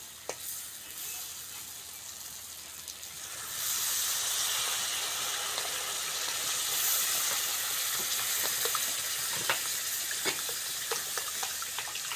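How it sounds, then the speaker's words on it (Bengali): Water poured onto oily fried spice paste for a Bengali prawn and yam curry, a faint hiss that swells into a louder steady steaming rush partway through, with small crackles, no speech. "মশলা থেকে তেল ছেড়ে দিয়েছে এইবার জল দিয়ে দেবো"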